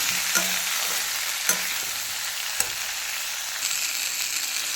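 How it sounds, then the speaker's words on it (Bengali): Tomato frying in a pan for a Bengali fish curry with elephant foot yam, a steady close sizzle with a few sharp clinks of a spoon stirring against the pan, no voices. "তারপরে দিয়ে দিচ্ছি একটু টমেটো দিয়ে আবার একটু ভালোভাবে কষিয়ে নিচ্ছি"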